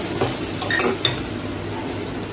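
Onion, tomato and coriander, chilli and curry masala powders frying lightly in a pan for egg gravy, with a soft steady sizzle and a few scraping stirs and utensil clinks close by.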